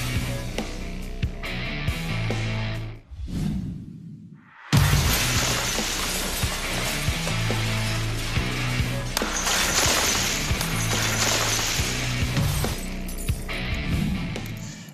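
Safety glass, rapidly cooled after casting to hold high internal tension, shatters loudly and suddenly into a dense, sustained burst of crashing and tinkling fragments, following a brief quiet gap.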